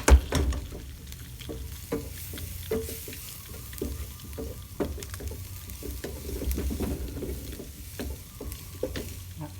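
Sausages sizzle and spit in a hot frying pan, a steady crackling fry with scattered pops and occasional stirring, close and fairly quiet, with no voices.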